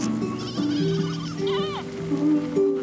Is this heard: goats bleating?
yes